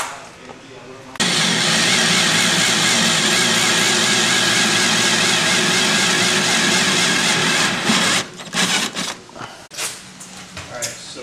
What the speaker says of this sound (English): There's the drilled hole.